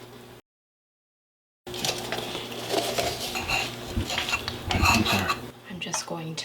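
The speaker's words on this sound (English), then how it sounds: "I'm just going to combine that into our almond flour a little bit." A spoon scrapes and clinks against a mug while baking powder is stirred into almond flour for a keto carrot mug cake, busy close-up scraping after a brief silent gap.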